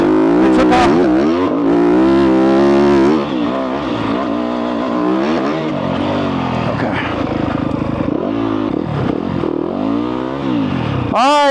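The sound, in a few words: dirt bike engine revving while accelerating on a trail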